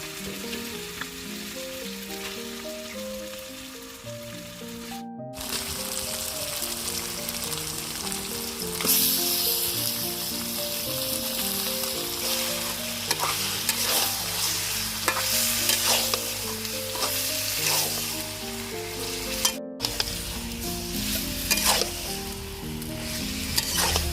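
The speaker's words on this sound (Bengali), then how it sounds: "আদা জিরা অনেক ভালোভাবে ভেজে নিছি এখন দিয়ে দিব মশলা দিয়ে মেখে রাখা মাংসটা" Spice-marinated chicken goes into a pan of fried ginger and cumin for a chicken and new potato curry, sizzling loudly and steadily while a spoon stirs and scrapes through it, with background music.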